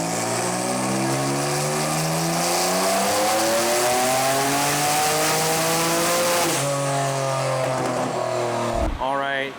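A tuned 800 hp Kia Stinger engine on a dyno pull at 23 PSI boost, roaring loud and continuous as its pitch climbs steadily, then cutting off abruptly near the end.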